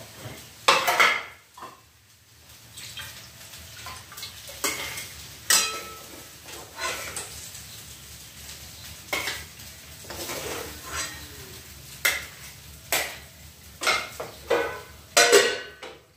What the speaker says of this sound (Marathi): चला आता मी तो त्याला प्लेटमध्ये काढून घेते